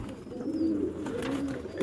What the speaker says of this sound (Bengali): এটা হচ্ছে মাদি পায়রা